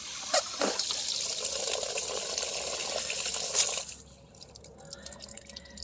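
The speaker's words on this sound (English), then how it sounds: "It's more than just clear water that comes out." Water runs out of the open end of a pipe, a soft steady trickle and dribble for about four seconds before it drops to faint drips and quiet background.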